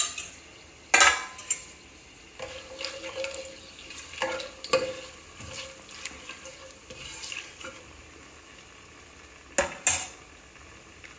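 Whole spices spluttering and crackling in hot oil for chicken biryani, with scattered pops and sizzling under repeated metal stirring and scraping clinks against the pan, two sharp clatters standing out.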